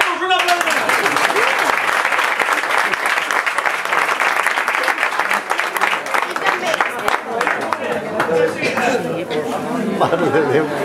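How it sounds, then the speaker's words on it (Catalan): Loud, continuous applause from a studio audience on a Valencian comedy show, with cheering and chatter mixed in throughout the whole stretch. "un aplaudiment"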